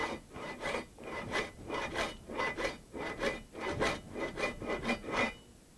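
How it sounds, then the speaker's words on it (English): A hand saw cuts steadily through pipe in even back-and-forth strokes, close up and loud, a rhythmic rasping that runs without pause. "I can feel the blade starting to go through the pipe"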